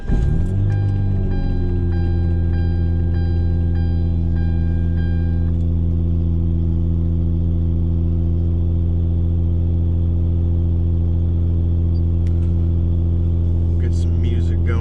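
Hyundai Tiburon engine cranks and catches, then settles into a steady, loud, close idle with a deep low hum, running alone without voices.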